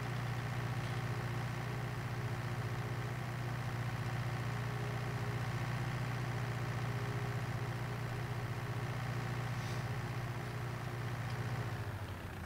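A tractor engine in Landwirtschafts-Simulator 19 drones at a constant low idle for over ten seconds, loud and unbroken, before cutting off at the end.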